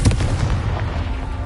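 A Confringo spell fires in the Hogwarts Legacy video game, a loud booming blast with a sharp attack followed by a dense, sustained rumble throughout.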